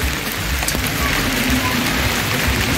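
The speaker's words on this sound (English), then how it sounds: "no matter the rains, we'll still put in some work even if there is rain" Steady rain pours down on a rural homestead in Zimbabwe during fencing work, a dense, even hiss of drops with no letup and no voices.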